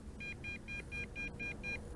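Helifar B3 brushless GPS quadcopter emitting a faint, distant series of seven short, evenly spaced high-pitched beeps over steady low background rumble.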